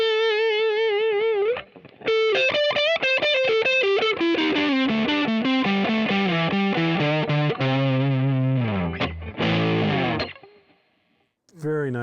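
Gibson Memphis ES-359 electric guitar through warm distortion, a single note bent and held with long sustain, then further distorted notes and chords ringing out before fading.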